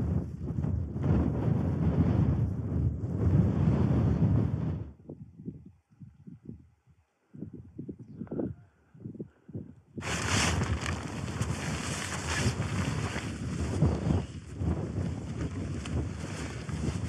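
Strong gusts roar across a winter camp on the Ben Nevis summit, buffeting the microphone heavily, then drop to a lull filled with close rustling before the loud blustering wind returns.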